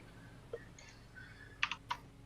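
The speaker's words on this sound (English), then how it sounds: "I'm typing up the message I'm going to send" A few faint, scattered clicks of typing on a computer keyboard, sparse taps spread out over quiet background hiss, with no one talking.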